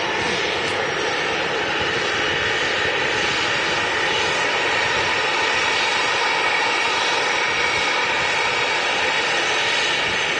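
A Ryanair Boeing 737 jet takes off at Manchester Airport, its engines giving a loud, steady roar that holds for the whole stretch without a break.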